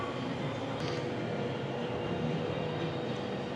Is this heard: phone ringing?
no